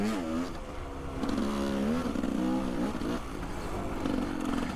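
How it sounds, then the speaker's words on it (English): A motorcycle engine running with a strong, throaty exhaust note that rises and falls through a few blips of throttle, close and loud throughout. "the bike fires right up"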